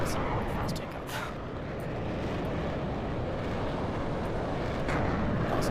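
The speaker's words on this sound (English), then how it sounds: "That's a really fast takeoff." A fast aircraft takeoff in the game Aeronautica, a broad rumbling engine roar that holds steady and close throughout, with a person talking faintly underneath.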